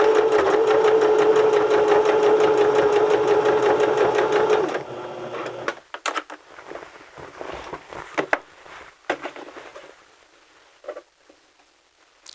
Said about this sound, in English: stitch forward with a 5/8 inch seam